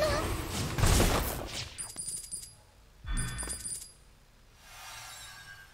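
Sniper gunshot in the video game Little Noah: Scion of Paradise, a sharp crack with ringing, glassy debris, followed by a second burst of shots a couple of seconds later amid other game effects.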